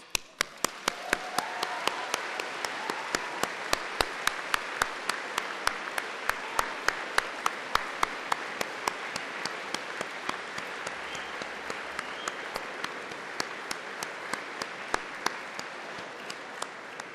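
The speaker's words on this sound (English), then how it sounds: "giving all of them a big wave and a huge round of enthusiastic applause" Sustained applause from a graduation audience at a Cardiff University ceremony, dense clapping from a large hall crowd with sharp individual claps standing out, steady and loud for the whole stretch.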